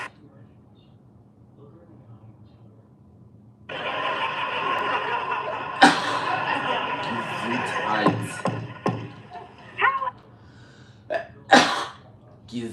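A sneeze bursts out once, loud and close, after a stretch of quiet room tone, followed by a few short snorts or chuckles in a broadcast-style quiz-show setting.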